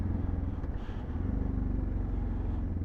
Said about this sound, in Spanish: Se quiere apagar la moto.